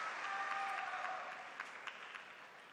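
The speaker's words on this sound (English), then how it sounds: "The sound all coming from the crowd right now." Table tennis crowd in an arena applauding steadily at a Polish Open match, a dense wash of clapping with a few sharper individual claps standing out toward the end as it slowly fades.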